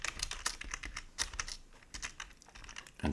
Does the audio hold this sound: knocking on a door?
no